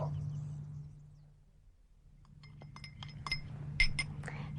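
Glasses clink in an audio drama scene set near a country railway station, with a low hum at first, then a quiet stretch, then several light, bright clinks and taps close by.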